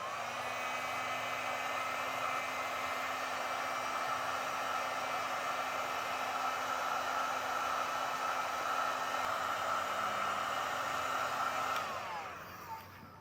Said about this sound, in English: I'll come back with my heat gun and seal up the ends